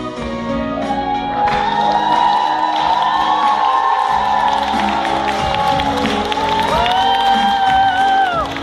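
Audience at a KVN student league comedy show cheers and applauds, a loud sustained crowd roar with whoops and shouts, over music playing throughout.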